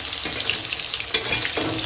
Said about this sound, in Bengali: পাত্রে তেল দিয়ে দিয়েছি কড়াইয়ে এই আলুটা ভেজে তুলে নিয়ে আর মাংসটা চাপাবো